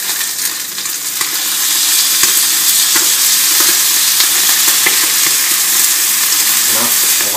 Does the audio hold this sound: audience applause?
no